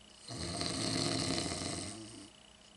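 One long, deep snore rises and fades, rumbling and fairly loud, with no talking.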